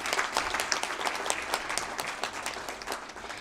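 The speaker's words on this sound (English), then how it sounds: "Let's have another big round of applause" A hall audience at a formal conference valedictory event claps in a steady round of applause, fairly distant and moderately quiet, with individual sharp claps standing out through the wash.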